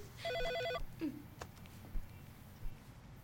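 A telephone at home rings with a short burst of bright, rapidly repeating electronic trills, fairly faint, followed by quiet room sounds with a few knocks and brief voices.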